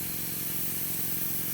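Switzer budget airbrush spraying, a steady, continuous close-up hiss of compressed air with a faint low compressor hum beneath, unbroken for the whole stretch.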